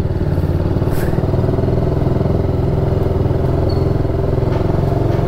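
A TVS Apache RR 310 motorcycle engine runs loud and close with a steady throbbing idle and some mechanical clatter, heard alone without speech.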